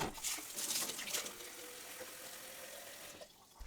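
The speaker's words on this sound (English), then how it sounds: "I'm just going to use water to rinse the blender" Running water pours and splashes steadily from a tap rinsing out a blender, with a brief pause near the end.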